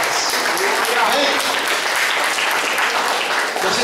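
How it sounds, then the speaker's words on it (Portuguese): Inside an Assemblies of God church, the congregation claps for Jesus in a loud, continuous wash of applause that holds steady for several seconds, with voices and cheering blended into the clapping. "Dá uma palma, uma salva de palma para Jesus aí"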